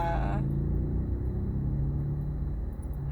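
Low, steady engine rumble and road drone heard from inside a moving car, a constant close hum filling the cabin with no talking over it.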